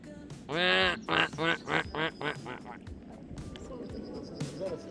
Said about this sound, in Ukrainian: Качечки.